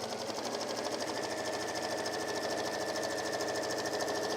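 A sewing machine runs steadily and close, stitching a seam on a fabric gardener's kneeling cushion, with a dense, even mechanical whir and no voice over it.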